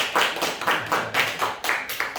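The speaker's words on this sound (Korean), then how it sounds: "우리 권사님 박수로 환영해 주십니다." A church congregation claps in welcome for a guest, giving brief, fairly close, moderately loud applause made of quick, uneven rounds of hand claps without voices.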